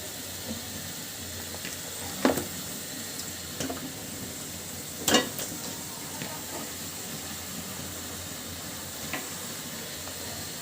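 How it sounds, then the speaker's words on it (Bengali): Catla fish frying in spiced oil after the masala has been cooked down until the oil rises, giving a steady, moderately loud sizzling hiss broken by a few sharp clattering pops. "এবার আমি এর ভিতরে দিয়ে দিব মাছগুলো"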